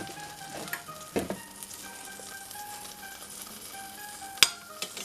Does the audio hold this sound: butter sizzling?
yes